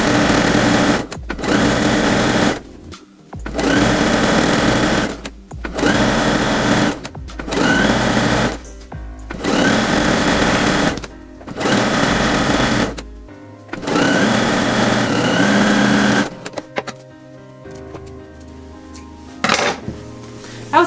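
A sewing machine stitches the hem of a pinafore dress, loud motor runs in repeated bursts of a second or two with short pauses between, ending with softer clicks and handling noise.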